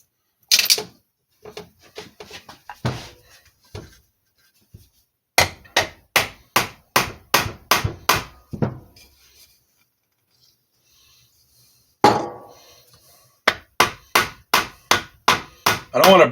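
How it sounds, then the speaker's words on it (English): A light hammer taps on a cast aluminum part of a Tecumseh TVS90 engine from a 1984 Toro mower, in close, sharp strikes grouped into rapid, evenly paced runs separated by quieter pauses and some handling noise. "This is cast aluminum, so I'm just tapping lightly."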